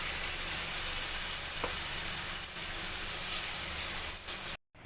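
Pieces of banana stem fry in hot oil, giving a steady, loud, close sizzle that runs unbroken before cutting off abruptly at the end.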